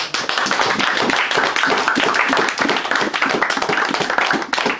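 A church congregation claps loudly and continuously in praise during a French-speaking worship service, a dense, steady burst of many hands close by with no voices over it.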